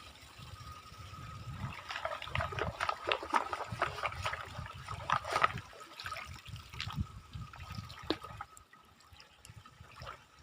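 River water flows steadily in an outdoor setting, heard as a continuous faint rushing and trickling with soft splashy textures, fairly distant and low in level.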